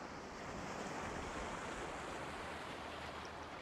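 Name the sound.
wind and ocean waves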